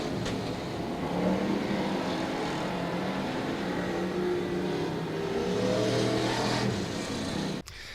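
IMCA Modified stock cars race down the front straightaway of a dirt track. A blended roar of engines rises and falls in pitch at moderate distance, and the sound drops sharply near the end.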